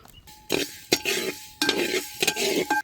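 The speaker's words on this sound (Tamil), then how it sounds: "இப்போ நல்லா இந்த பொரியிற சத்தம் கேட்குது பார்த்தீங்களா இந்த மாதிரி சத்தம் கேட்ட உடனே அது தனியாக நம்ம எடுத்து வச்சுக்கிறோம்" Mustard seeds, urad dal and fenugreek dry roasting in a pan, with bursts of crackling and popping alongside scraping stirs and clinks of a spoon against metal, close and fairly loud.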